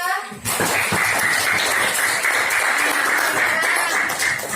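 A classroom of students applauding a classmate, with a sustained burst of mixed hand clapping that starts abruptly and stays steady and fairly loud.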